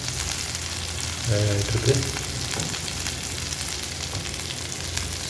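Fish frying in light oil on a flat dosa griddle, a steady close sizzle running throughout with brief stirring or flipping noises, while someone speaks briefly over it.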